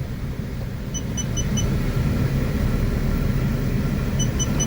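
A truck tractor pulls away in first gear, its deep, steady diesel rumble holding loud and close for the whole stretch, with faint, brief high tones showing up twice and nobody talking.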